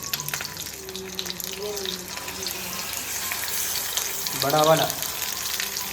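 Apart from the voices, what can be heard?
tilapia fish frying in a pan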